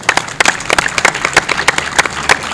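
A burst of clapping with repeated sharp claps, loud and close, from a small group without much crowd roar, applauding participants at a men's open tennis tournament.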